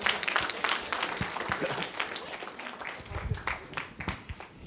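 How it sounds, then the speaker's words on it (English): An audience at a HOPE hacker conference talk breaks into a round of applause, scattered claps rising over a murmuring hall with a voice speaking over it. "A round of applause."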